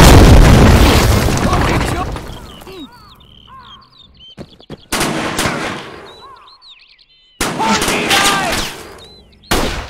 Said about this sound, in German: Vorsicht, Granate!